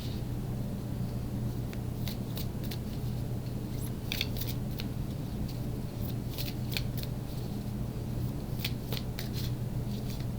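Tarot cards are shuffled for a spread, giving soft riffling flutters and crisp card snaps in scattered bursts. A low steady hum runs beneath, and no one speaks.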